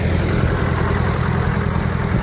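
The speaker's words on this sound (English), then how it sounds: "there goes the tractor" A tractor engine runs at a steady idle close by, a continuous low, throbbing rumble that holds even for the whole stretch with no voices over it.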